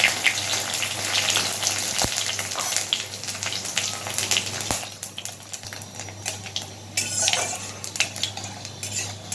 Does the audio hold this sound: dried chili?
yes